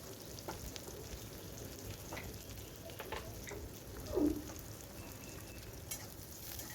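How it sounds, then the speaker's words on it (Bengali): Onion frying in oil in a pan for a ridge gourd dish, a quiet, even sizzle with a few faint stirring scrapes, close but soft and with no speech. "পেঁয়াজটা দিয়ে দেওয়ার পরে পেঁয়াজটা বেশ ভালো করে একটু ভেজে নেব"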